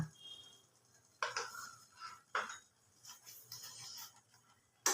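A spoon works ginger-garlic paste around a pan while making butter chicken, a few quiet, close scraping strokes in separate bursts with near silence between them.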